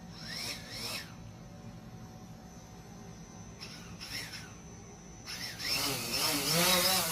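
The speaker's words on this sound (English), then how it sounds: "I start the engines of the drone." Drone motors spin up in short bursts of rising whine, then settle into a sustained higher buzz that grows louder toward the end, over a faint steady background hum.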